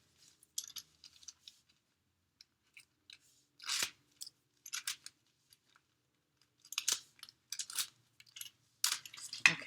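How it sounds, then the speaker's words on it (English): Paper backing peeled off strong double-sided adhesive tape while making a candy cane shaker card, heard as several short, crisp tearing and crackling bursts separated by quiet gaps. "And then we will lift up that backing. This is double-sided tape."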